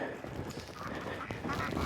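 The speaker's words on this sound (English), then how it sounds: "ducks, geese." Ducks and geese at a backyard farm flock give off a dense, overlapping chorus of quacks and honks, steady and fairly loud throughout, with a light murmur of a person's voice underneath.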